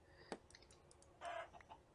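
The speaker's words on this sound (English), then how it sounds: "Stupid chicken." Chicken clucking in the Minecraft Better Than Wolves mod: a few short, quiet game clucks scattered through two seconds, with one brief louder burst near the middle, no speech.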